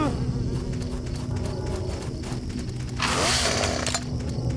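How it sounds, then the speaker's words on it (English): Chainsaw in the horror video game Silent Hill 4: The Room, a steady buzzing engine drone that swells into a louder, harsher rev near the end, heard alone without talking. "Wait, does he have a chainsaw?"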